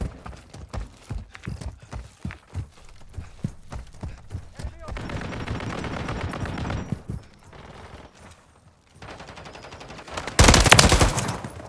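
Enemy gunfire crackles in a shooter video game, opening with a long run of sharp rapid shots, then denser bursts, a brief lull, and a loud sustained volley at the end.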